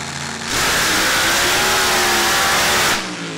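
Blown alcohol dirt dragster at a Pro-BADD race at Muddi-Gras roars through a short run, a loud, sustained, rising engine howl that starts abruptly and cuts off after about two and a half seconds.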